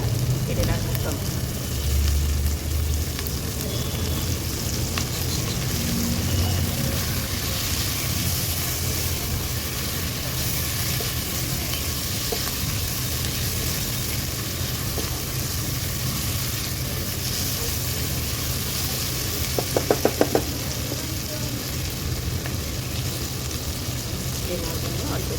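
Spice paste fries in a pan for an omelette-style egg curry, giving a continuous, even sizzling hiss that runs throughout, with a few faint clinks over the steady frying.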